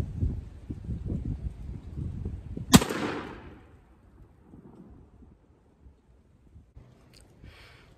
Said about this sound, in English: We're gonna shoot this thing at 30 yards and see what it'll do.